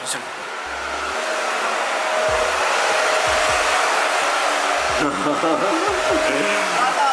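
A loud, steady motor whine like a vacuum cleaner runs throughout, starting up at the beginning, with a voice speaking briefly beneath it.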